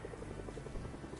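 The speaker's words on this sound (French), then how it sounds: "C'est un hélico." Helicopter in the video game Fortnite, a rapid, low, pulsing rotor chop that stays steady and fairly faint for a brief moment, with no voices over it.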